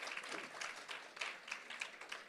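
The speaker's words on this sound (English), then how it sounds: "We can give a clap or we can appreciate them." Faint, scattered clapping from a small audience at a cultural program, a short thin round of applause for quiz winners heard from a distance.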